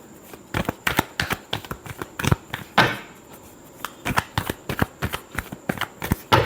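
Tarot cards being shuffled by hand in a close, brisk run of papery riffles and slaps, with one longer sweeping shuffle midway and no talking.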